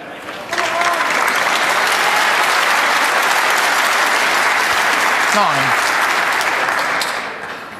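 A snooker crowd at the Northern Ireland Open applauds Jimmy White's good start against Ronnie O'Sullivan, the clapping building in quickly, holding loud and dense, then fading out at the end, with a brief voice partway through.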